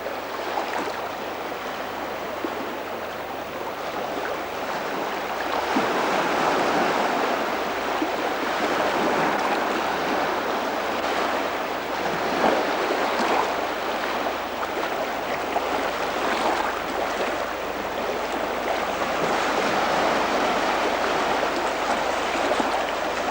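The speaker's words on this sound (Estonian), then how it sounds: "Päiksepaistel merelained." Sea waves washing ashore on a sunny day along the Estonian coast, a steady broad rush of surf that swells slightly after the first few seconds and continues unbroken, with no voices.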